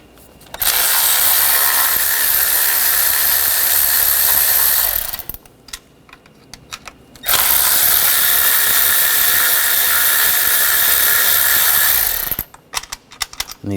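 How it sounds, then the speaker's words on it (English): A ratchet on an 8mm socket loosens valve cover bolts on a 2013-2019 Ford Escape 2.0L, two loud, sustained runs of rapid clicking separated by a brief pause, with scattered clinks at the end. "Now we're going to take the bolts off for the valve cover,"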